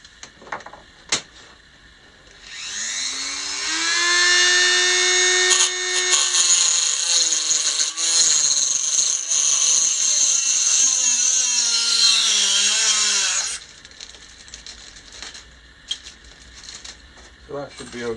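A power tool trimming the burr off a cut edge on an MSI RTX 2080 Gaming X Trio graphics card, with a loud, close whining buzz that ramps up and holds for about ten seconds, framed by faint clicks and brief talk.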